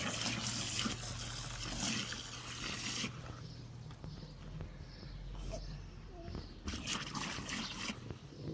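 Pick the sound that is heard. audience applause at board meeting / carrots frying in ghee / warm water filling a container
warm water filling a container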